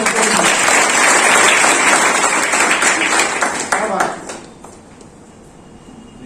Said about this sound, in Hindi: जोरदार तालियां बच्चे की